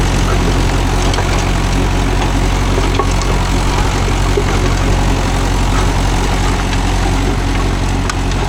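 A Mahindra 415 DI tractor engine idles steadily nearby, a continuous low diesel rumble with constant loudness and no talk over it.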